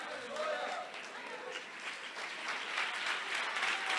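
A church congregation applauds during a sermon, a faint, distant wash of many hands clapping that swells slightly toward the end, with voices heard through it.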